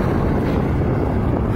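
Heavy wind buffets the microphone while cycling, a continuous loud low rumble with no other distinct sounds.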